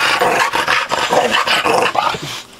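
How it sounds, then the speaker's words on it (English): A bulldog growls and grumbles close up in rough, rapid bursts, with a few yippy barks mixed in. "this dog I rescued from the streets"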